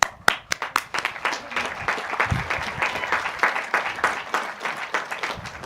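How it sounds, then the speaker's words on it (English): An audience at a high school graduation ceremony breaks into applause, a sustained patter of many hands clapping together at moderate distance, with a few sharp claps standing out at the start and no speech over it. "so we applaud you tonight"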